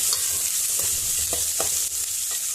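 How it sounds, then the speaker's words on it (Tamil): Chopped onion, green chili and curry leaves sautéing in a hot oiled pan, a steady sizzle broken by several scraping stirs of a spoon, close and fairly loud with no voices. "வெங்காயம் ஆட் பண்ணிட்டு இதை நல்லா வதக்கிக்கலாங்க"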